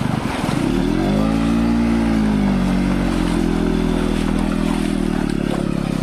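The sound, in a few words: motorcycle revving to get out of off-road mud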